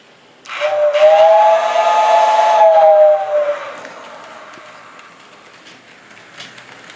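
A loud steam-style model train whistle blows steadily for about three seconds over a hissing rush as model trains pass, then fades to quiet background rumble.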